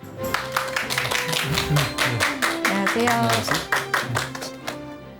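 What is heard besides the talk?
audience applause welcoming a lecturer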